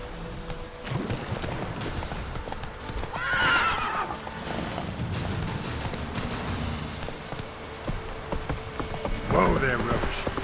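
Roach, a horse in The Witcher 3, gallops with steady clip-clop hoofbeats and lets out two whinnies, one early and one near the end, over game ambience with some voice.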